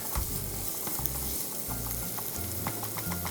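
Diced celery cooking in a pan, a constant loud sizzle with occasional soft clicks of stirring, close up, with a low hum underneath.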